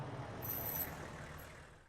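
Mini pickup truck in the Corpse Party video game approaching and coming to a stop, a steady close engine rumble with a brief high brake squeal, no talk over it.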